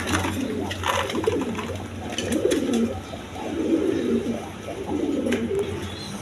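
A pair of big Gopalganj pigeons, a male and a female, coo repeatedly in soft throaty warbles, the phrases overlapping in a continuous close-up burble.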